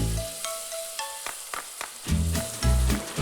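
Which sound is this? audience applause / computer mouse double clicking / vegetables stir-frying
vegetables stir-frying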